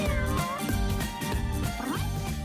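A cat meows loudly and continuously up close, with drawn-out wavering cries rising and falling in pitch, and no talking.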